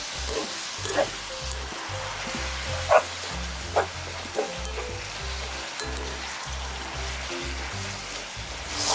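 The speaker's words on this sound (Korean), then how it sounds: "여기 양파도 같이 넣고 볶아주세요." Pork and onions stir-fry in a pan over high heat, giving a continuous close sizzle with occasional sharp clatters of utensil on metal as the food is tossed.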